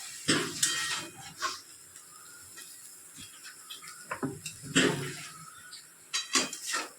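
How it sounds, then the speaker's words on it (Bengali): Red amaranth stems are stirred in a pan with a utensil, giving scattered scraping and clattering strokes in irregular bursts, fairly quiet and near, with no voices. "এবারে এটা ভালো করে নাড়াচাড়া করতে হবে।"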